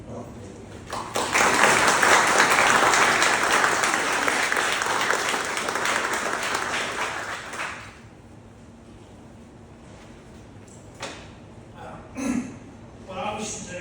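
An audience breaks into loud, sustained applause to welcome a speaker, many hands clapping for about six seconds before fading, then a few scattered sounds and a voice begin.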